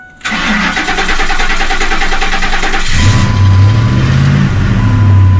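A 2004–2008 Ford F-150, just fitted with a new fuel pump, cranks loudly for about three seconds, then the engine catches and settles into a steady idle, recorded up close.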